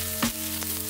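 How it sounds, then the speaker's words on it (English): Chopped onions hitting a hot frying pan for a Korean recipe, giving a broad steady sizzle with a brief louder burst as they go in, close and alone without talk. "Into the same pan, I'm gonna add in my onions. Ugh, the sizzle sound never gets old."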